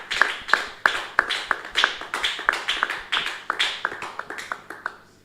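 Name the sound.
congregation applauding the Lord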